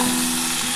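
Chopped vegetables with onion and garlic fry in oil in a pan, giving off a brief, loud, continuous sizzle with no other sounds.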